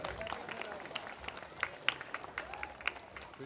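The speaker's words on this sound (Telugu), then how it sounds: "ప్లీజ్ బిగ్ హ్యాండ్, అందరూ చప్పట్లు కొట్టాలి." A church congregation applauds during a skit about poor Lazarus and the rich man: faint, scattered clapping under crowd murmur and a few voices, quiet and somewhat distant.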